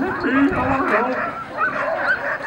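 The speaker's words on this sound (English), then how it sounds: "All the dogs are going wild." A yard full of Alaskan huskies at an Iditarod training kennel bark and yip excitedly together, a loud, overlapping chorus of many dogs close by.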